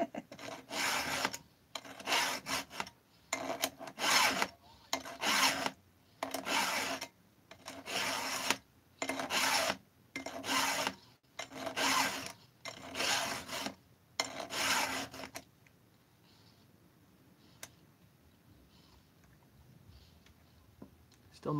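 Steady rhythmic rasping of a hand file stroking a chainsaw chain's teeth, close and loud in repeated swipes for about fifteen seconds, then near silence.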